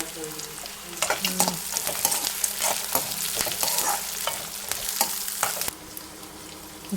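Cashew nuts frying in a pan for paneer butter masala, a steady close sizzle with repeated stirring scrapes and clinks throughout, no talking.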